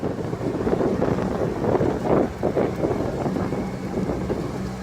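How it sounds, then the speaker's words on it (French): A low, steady boat motor hum on an oyster-farming lagoon, the Étang de Thau, runs under wind buffeting and water splashes, fairly quiet and continuous. "Il est très silencieux ton moteur là."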